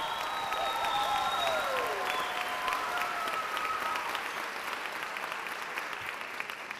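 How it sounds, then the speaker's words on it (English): A crowd at a Canyons School District Teachers of the Year ceremony gives elementary teachers a sustained round of applause, full and close at first and easing slightly toward the end, with faint tones in the background. "let's give our elementary teachers of the years another round of applause"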